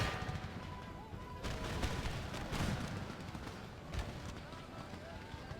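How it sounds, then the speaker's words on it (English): Musket volleys crackle in the video game Empire Total War, rolling bursts of massed gunfire and distant booms at modest volume, while a voice talks over the battle. "I want everybody firing."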